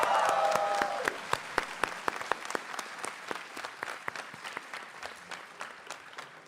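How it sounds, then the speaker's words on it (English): Graduation-ceremony audience at IIT Hyderabad's 14th convocation applauds loudly in a dense, steady wash of clapping that gradually thins into scattered, distinct individual claps toward the end. "Actually, there has to be a loud shout out for Rahul."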